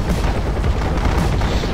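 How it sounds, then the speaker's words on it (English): Dense gunfire barrage in the mobile tactical shooter Tacticool during a competitive league match, a continuous loud rattle of shots and booms with no pauses. "Now Harold again with his barrage of gunfire across the map"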